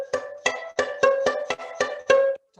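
Bowed string stopped with the backside of the fingers, from an Estonian folk band, played as seven short, evenly spaced bowed strokes with a bright nasal tone, close and clear with no talking.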